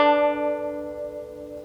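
Irish tenor banjo picking one short bar of the Kesh Jig, a few bright plucked notes ringing out and decaying, clear and close with no talking.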